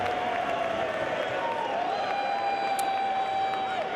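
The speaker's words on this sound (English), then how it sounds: "Crowd enjoying it." Crowd at a Lingerie Football League game between Toronto Triumph and Tampa Breeze cheers and applauds steadily as a continuous wash of noise, with commentators' voices over it.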